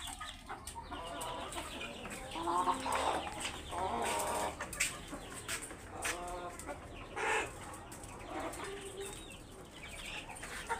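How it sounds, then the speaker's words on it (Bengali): Egyptian Fayoumi chickens on a farm cluck and call repeatedly at close range, overlapping bursts of clucks and squawks over a low, steady background hum. "এই ফার্মি মুরগিগুলো আছে এখানে"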